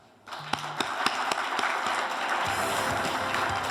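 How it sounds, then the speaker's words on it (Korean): After a presidential candidate's special lecture at the Korea Chamber of Commerce and Industry, a large hall audience breaks into sustained applause that starts suddenly and holds as a dense, even wash of clapping, with a few sharp taps. "귀한 말씀 해주신 후보님께 다시 한번 큰 박수 부탁드리겠습니다."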